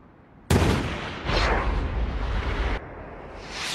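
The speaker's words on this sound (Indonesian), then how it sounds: "Chris membidik dengan tenang dan langsung melepaskan tembakan." A sniper rifle shot in a film scene bursts out suddenly and loud, followed by a second heavy blast and a sustained rumbling roar that cuts off abruptly, then a quieter tail.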